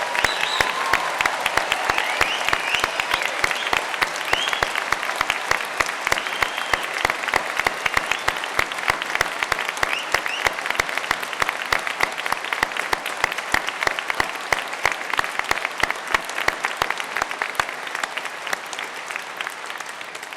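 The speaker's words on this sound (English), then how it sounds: "let's start today's ceremony by giving all these amazing graduates a huge round of applause" A large audience at a university degree ceremony in Cardiff gives the graduates long, dense, even applause that holds steady throughout and tapers slightly near the end.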